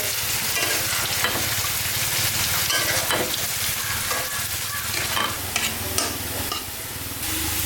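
Banana stem curry cooking in a pan, a loud continuous sizzle with rhythmic stirring and scraping strokes throughout, with no voices.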